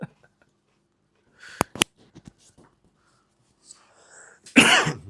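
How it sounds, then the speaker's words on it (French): A single close, harsh cough bursts out loudly near the end, preceded by faint scattered clicks and rustling in a quiet room. "Désolé pour avoir toussé dans le micro."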